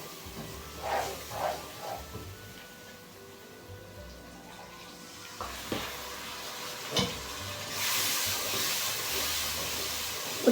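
Semolina halwa with jaggery being stirred in a pan over a low flame, giving soft scraping and gentle sizzling with a few sharper clinks of the spoon and a hissing swell near the end, no talk.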